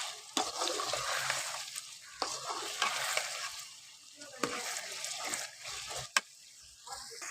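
Chicken pieces fry golden brown in a pan for biryani, a steady sizzle punctuated by sharp clinks and scrapes of stirring, close by and moderately loud.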